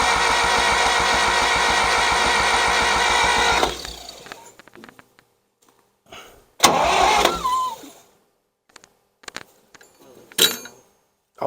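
A 1960s John Deere 1010 W tractor, sitting unused for 18 years, cranks with a rapid rhythmic starter chug for nearly four seconds, then falls silent; later come a short engine burst and scattered mechanical clanks nearby.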